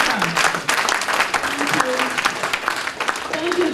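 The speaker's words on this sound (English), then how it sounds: "So please a round of applause to all my authors." A conference audience at an aviation careers event gives a round of applause, clapping mixed with cheers and voices, fairly close and lively, with talk running through it.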